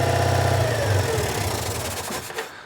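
The air-cooled 2CV-based engine of a Falcon S kit car left abandoned for 23 years runs steadily, a loud close throbbing idle with a rough mechanical chatter that eases slightly near the end.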